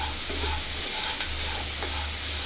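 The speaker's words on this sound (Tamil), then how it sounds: "வெள்ளத்தை சேர்த்து ஒரு ரெண்டு நிமிஷம் போல் நல்லா வதக்கிக்கோங்க" Jaggery is sautéed and stirred in a pan over medium heat, a dense continuous sizzle with faint spoon scrapes, close and without voices.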